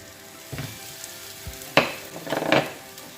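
Gozleme flatbreads fry in a hot buttered pan, with a low sizzle punctuated by several sharp clatters and scrapes of handling in the pan, close and without voices.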